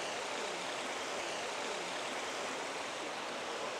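Steady broadband rush of a river flowing at a hidden riverside hot spring of lukewarm water, continuous and close with no breaks.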